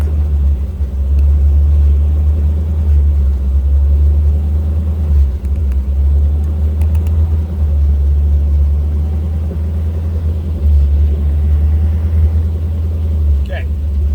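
A side-by-side UTV with 4.10 gears and 37-inch tires idles and crawls in low range first gear, giving a loud, steady low engine rumble throughout.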